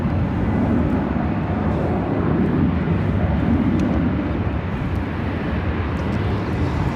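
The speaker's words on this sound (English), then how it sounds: "That is Philippine Airlines Flight 113 heading back to Manila" A Philippine Airlines jet taking off from the south side of LAX bound for Manila, a continuous broad engine roar with a low rumble, moderately distant and steady for the whole stretch, with no voices.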